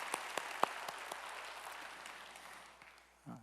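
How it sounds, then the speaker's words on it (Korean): A church congregation claps during a Sunday worship service, a steady wash of applause with a few sharp claps near the start, fading out before a brief voice at the end. "오늘의 찬양을 받으신 우리 주님께 영광의 박수 올리겠습니다."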